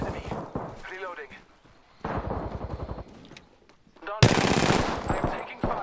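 Machine gun fire in a video game battle comes in dense rapid bursts, loud and close, alternating with stretches of radio-style voice callouts.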